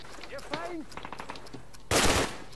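Gunfire in the Call of Duty video game, a brief loud burst of shots near the end, following quieter game sounds and a faint voice.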